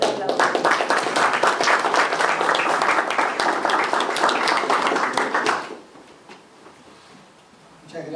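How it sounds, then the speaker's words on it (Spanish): Warm applause greets a speaker at a book presentation, loud and dense clapping from a seated audience for several seconds before breaking off abruptly, followed by a quiet room and faint voices. "Un fuerte aplauso."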